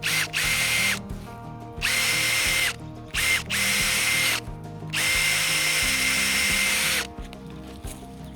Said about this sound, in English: You basically just drill the hole with the bulb auger.